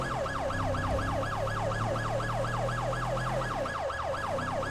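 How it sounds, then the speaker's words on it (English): A police Tahoe's quick siren in GTA 5 wails in fast, repeating up-and-down sweeps, loud and continuous over the low hum of the vehicle's engine. "Go ahead and keep the quick siren on because we're going around these corners."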